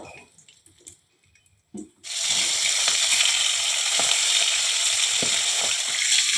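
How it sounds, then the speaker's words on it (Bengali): Fish heads frying in oil for muri ghonto: after a near-silent stretch with a few clinks, a loud, sudden sizzle erupts and holds as a dense, even crackle right up close. "এবার আর একটু তেল দিয়ে দিলাম।"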